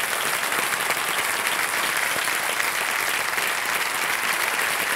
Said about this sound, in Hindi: जोरदार तालियां बज जाए अमित सिन्हा जी के लिए